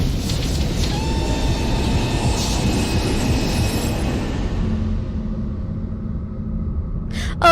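Continuous low train rumble with rolling wheel noise and faint squeals in the video game The Room 3, steady and loud throughout, ending in a brief sharp burst.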